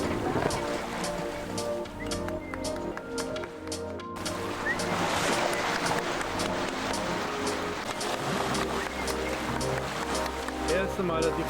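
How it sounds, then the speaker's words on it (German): Sailboat running downwind at sea at about six knots under wing-on-wing sails, with a steady wash of water along the hull and a low continuous hum, heard alongside faint talk. "können wir endlich segeln, so unter mit Schmetterling segeln, genau bei achterlichem Wind"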